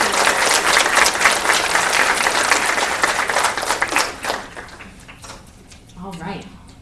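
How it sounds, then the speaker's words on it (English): A crowd at an awards celebration breaks into loud, dense applause that tapers off toward the end, and a voice sounds briefly as the clapping fades. "So if we could give her a round of applause."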